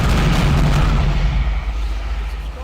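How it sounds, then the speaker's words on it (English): Naval cannon fire from Ultimate Admiral Dreadnoughts, heard as a heavy low boom that rolls on through the whole stretch, loud and dense amid continuous battle noise. "I'm not sure if anyone heard that cannon over what's going on the game."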